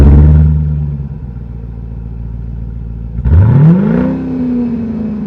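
A supercharged V8 in a seven-passenger SUV idles loudly up close, then revs up sharply with a roaring climb before easing back down.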